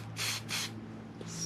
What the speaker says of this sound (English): spray a little bit on the brush, and then just like this.